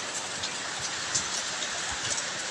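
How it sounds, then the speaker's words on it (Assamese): Heavy evening rain falls steadily and loudly, a dense unbroken hiss with no voices over it. "বৰষুণ মানে বহুত ডাঙৰ বৰষুণ"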